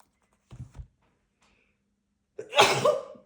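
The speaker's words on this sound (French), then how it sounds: "je suis désolée, j'éternue." A short sharp intake, a pause, then a single loud explosive sneeze close to the mic.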